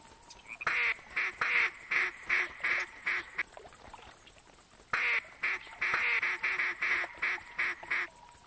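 Mallard ducks in the hunting game TheHunter quack in two long runs of loud, rhythmic, evenly spaced calls, separated by a short pause, with a faint high tone underneath.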